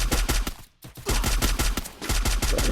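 Rapid automatic gunfire in the video game Free Fire, loud and close, with a fast rhythmic burst of shots that breaks off for a moment and then resumes in sustained volleys.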